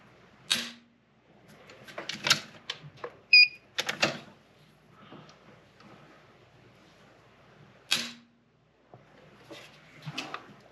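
Three trigger pulls on a CZ457 rimfire rifle measured with a trigger pull gauge, heard as sharp separate mechanical clicks and snaps, close and fairly loud, with pauses and faint handling noise between them.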